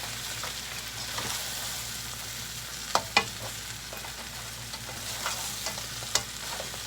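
Little green peppers frying in a pan alongside blue claw crab for a salt and pepper dish, giving a continuous close sizzle with a low hum beneath and a few sharp clicks of stirring, no voices.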